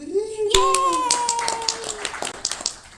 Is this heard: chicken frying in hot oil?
no